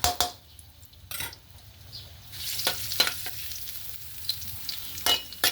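Garlic frying in oil in a pan while cooking Chaya greens: a steady, lively sizzle with bright crackling pops and occasional scraping stirs, close and clear with no talking.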